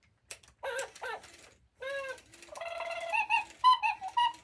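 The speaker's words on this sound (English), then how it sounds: "I have a sound-activated Hedwig toy." Interactive Spin Master Wizarding World Hedwig snowy owl toy giving off a series of electronic hoots and chirping bird calls, loud and close, with no talking.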